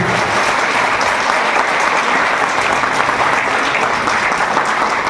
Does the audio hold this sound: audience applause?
yes